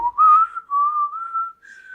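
A lone person whistles close by, a short wavering tune of several sustained notes that glide up and down, with brief breaks between phrases and no talking.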